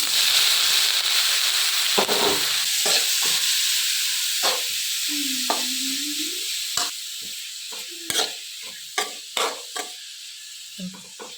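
Mustard seeds popping and sizzling in hot oil for a snake gourd thoran with onion, green chilli and coconut, a steady hiss broken by sharp scattered pops and crackles that grow more frequent toward the end.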